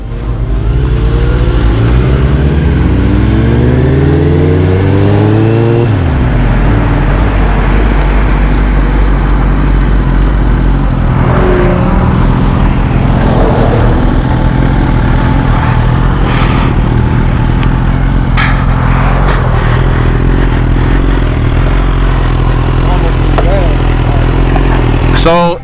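A BMW HP4 motorcycle on a test ride, its engine loud and close, first revving up through rising tones, then a sustained roar with wind and road noise as it accelerates.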